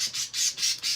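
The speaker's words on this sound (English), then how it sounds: "sorry about the birds are going a little crazy" Pet birds squawk loudly in a home, four shrill bursts in quick succession at close range with no talking.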